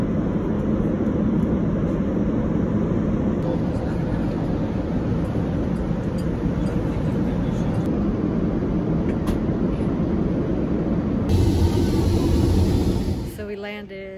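Steady broadband roar of an airliner cabin in flight, a constant loud drone filling the whole stretch, with a faint chime near the end and voices in the background.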